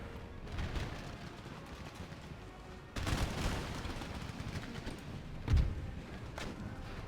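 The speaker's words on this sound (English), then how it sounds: "We are continuing our canister fire here." Canister fire from artillery in Empire Total War, a distant, muffled volley of crackling shots and thuds over a steady battlefield rumble, with one sharper boom standing out, fairly faint and without talking.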